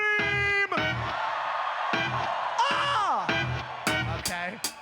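A concert crowd at a festival show screams and yells in repeated bursts, loud and close, with whoops rising over one another between short gaps.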